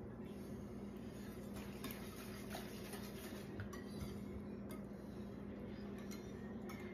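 A utensil stirs rice with pepper in a pot, scraping and clinking softly and steadily against the sides under a low kitchen hum.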